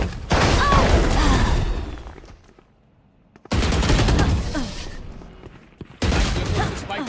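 Bursts of rapid gunfire in the video game Valorant, three loud volleys separated by short lulls, with crackling impacts and faint background noise.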